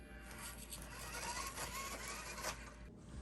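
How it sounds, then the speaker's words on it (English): The electronic speed controller of an Element RC Enduro24 crawler gives off a faint, steady low-toned hum. A soft mechanical whir and light clicks sit over it throughout. "the ESC hums a little. It's definitely a low tone, so it's not too bad, but you can hear it"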